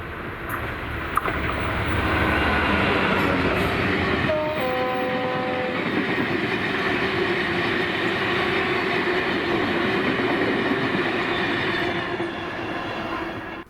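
Class 66 diesel locomotive 66737 hauling two-axle PCA tank wagons in Scotland: a brief horn blast, then a long steady roar of engine and rolling wheels with rhythmic rail clatter as the train passes close by and fades.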